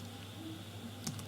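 A few quick keystrokes on a computer keyboard, faint and brief, clicking near the end over a steady low hum.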